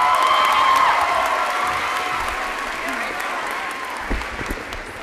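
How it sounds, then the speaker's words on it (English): Graduation audience at a Dow High ceremony applauding and cheering for a senior speaker, a steady loud wash of clapping with scattered whoops that gradually eases over several seconds. "while we have that applause going"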